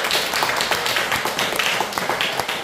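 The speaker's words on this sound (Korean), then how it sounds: "박정희 집사에게 감사 용기의 박수를 한번 부탁드리겠습니다" A church congregation claps for a deacon's wife during a testimony service, a loud, fairly even burst of many hands with slight rhythmic pulsing, close and lively, lasting a few seconds.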